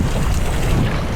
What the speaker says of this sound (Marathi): इकडून लाट आली